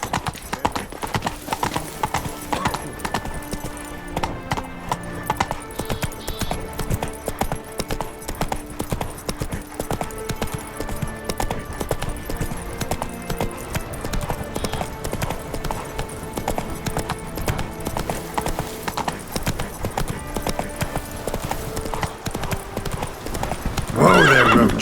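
Roach, a horse in The Witcher 3: Wild Hunt, trots with a steady clip-clop of hooves that carries through the whole stretch over game music and ambience, with whinnies and neighs breaking in along the way.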